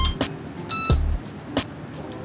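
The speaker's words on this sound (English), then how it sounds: "Let me get some beeps." Short electronic beeps from a drone's remote controller, a handful of sharp tones spaced unevenly over a couple of seconds, close and fairly loud.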